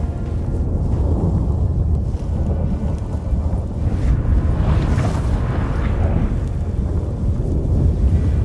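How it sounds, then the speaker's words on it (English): A sudden storm in The Witcher 3 builds as a loud, steady roar of wind and low rumbling thunder, swelling in the middle and then holding strong, with no voices over it. "That a storm?"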